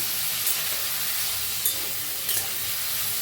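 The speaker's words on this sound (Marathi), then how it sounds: "हलवून घेऊया वांग्यांना दोन मिनिटं हलवून घ्या" Brinjal pieces in a pan being stirred over heat, a steady bright sizzle with faint scraping of the spoon, close and constant, with no voices.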